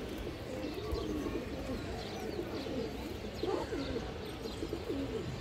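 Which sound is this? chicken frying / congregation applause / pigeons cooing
pigeons cooing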